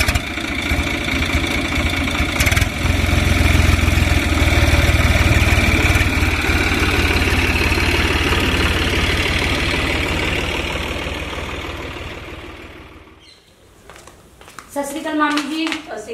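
A tractor engine runs close by in a rural Punjabi farm setting, a loud steady idling rumble with knocking pulses that fades over several seconds and cuts out, followed by brief voices.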